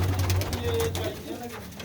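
Pigeons crowd a loft, perched on wooden planks, giving a low, throaty cooing that carries through most of the moment, close and fairly loud, with someone talking over it.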